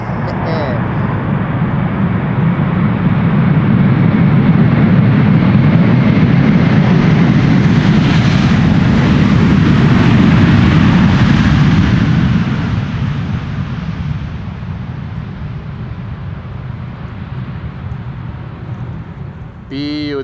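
An airliner lands at Amsterdam Schiphol and deploys its thrust reversers, a loud roar that swells for about ten seconds and then fades into a lower rumble, with someone talking over it.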